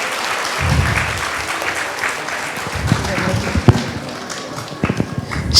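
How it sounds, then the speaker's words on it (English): Clapping from an audience at a school annual day event, a loose patter mixed with nearby talk and some scattered knocks and thuds. "Give them a big round of applause again."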